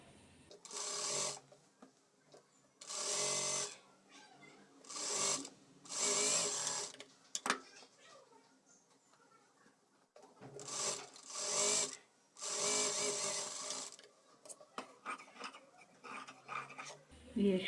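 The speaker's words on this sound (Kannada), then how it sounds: "ಇಲ್ಲಿ ನಾವು ಸ್ಟಿಚ್ ಮಾಡ್ಕೋಬೇಕು." Sewing machine stitching a top made to be worn over jeans, running in several bursts of a few seconds each with short pauses between, close and fairly loud.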